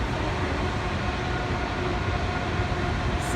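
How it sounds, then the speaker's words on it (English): A loaded coal train rolls past at Spencer's Bridge, British Columbia, giving a continuous loud rumble and rattle of wagons on the rails, close by and steady throughout with no speech. "Coal train."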